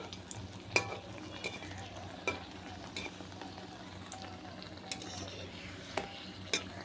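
Beguni, battered eggplant fritters, frying in a pan at home: a steady low sizzle with occasional sharp clinks of a utensil against the pan, close by and fairly quiet.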